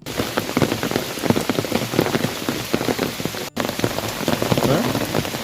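Steady rain patters densely on a hard surface nearby in the Gir forest area, a continuous crackling downpour with brief voices barely showing through.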